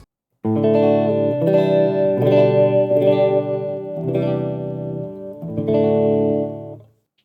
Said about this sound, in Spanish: Este es el modo clean, que se corresponde con un Fender Deluxe River y que suena así.